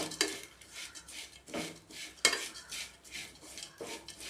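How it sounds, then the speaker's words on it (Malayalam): A metal spoon scrapes and clinks against a pan while grated coconut with chili powder and asafoetida is stirred for chammanthi podi, several sharp, close strokes at uneven intervals with quiet scraping between. "ഇനി നന്നായിട്ട് ഇളക്കി ഒരല്പം കൂടെ മൂത്ത് വരണം."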